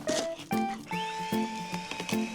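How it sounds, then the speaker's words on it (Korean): A powered ice drill bores a hole through thick frozen ice at a trout ice-fishing winter festival in a valley at Pocheon, Korea. A whining motor hum rises and falls in short repeated surges, close and fairly loud. "꽝꽝 언 얼음 드릴로 구멍을 뚫는데요"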